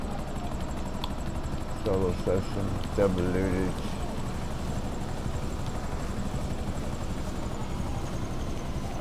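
A Buzzard helicopter in a video game flies with a continuous rotor and engine drone, while someone talks over it briefly near the start.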